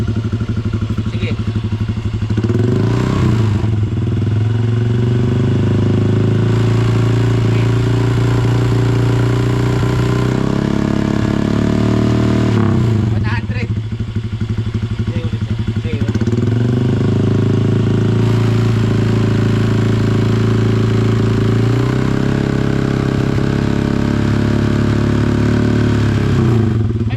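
Modified motorcycle engine revved at half throttle, loud and close, rising and falling in several repeated bursts over a rumbling idle, with people talking over it.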